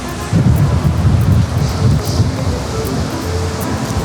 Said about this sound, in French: Oh, il pleut des cordes.